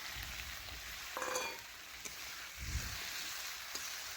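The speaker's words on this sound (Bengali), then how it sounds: "এখন বেশ কিছুক্ষণ ধরে নাড়াচাড়া করে একটু ভেজে নিচ্ছি" Chicken with onion and tomato stirred and frying in a pan, a steady close sizzle with scraping stirs and occasional utensil knocks, no voices.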